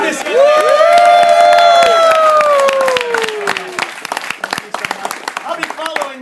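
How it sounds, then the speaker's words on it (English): A loud crowd at a magic show bursts into cheering, whoops and clapping, with a rising shout up front, then sustained applause tapering into scattered claps. "One more round of applause"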